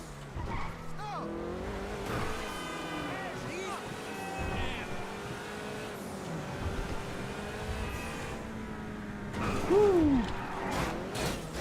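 Engine of a car in GTA Online, revving and whining through gear changes with tire squeal and skidding, a louder screech near the end, while a person talks over it.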